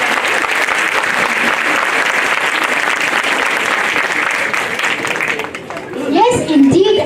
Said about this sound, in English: I request the audience to give them a big applause.